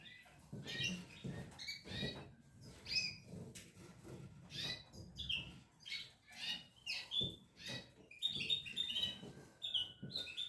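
Hungry canary chicks chirping up close: rapid, high, thin peeps and squeaky begging calls in quick, uneven bursts, with soft rustling beneath.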